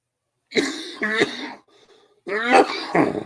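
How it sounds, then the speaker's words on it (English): Two rough, hoarse coughs close to the microphone, separated by a short pause with a faint breath between them. "Still got a horrible cough."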